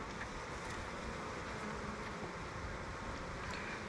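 Steady, dense buzzing of many honey bees at an open hive, close and continuous, with no talk and a low rumble underneath.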